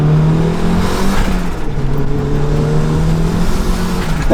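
A turbocharged Mazda Miata running about 11 pounds of boost accelerates hard from inside the cabin, with a loud, droning engine note that rises and then holds under steady road roar.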